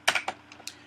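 Keystrokes on a computer keyboard while entering a command in Matlab: about five quick, light taps in under a second, close and fairly quiet, with no talking.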